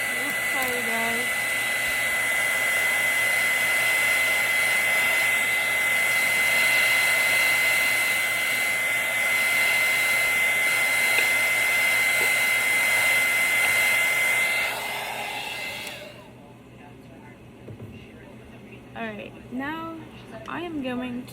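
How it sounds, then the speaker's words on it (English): A heat gun blows over a pumpkin craft to pop surface bubbles, giving a loud, steady whooshing hiss for about fifteen seconds before it cuts off. A person then speaks over the quiet that follows. "Alright, now take my heat gun. Apologize for the noise. I'm gonna try to get some of these bubbles."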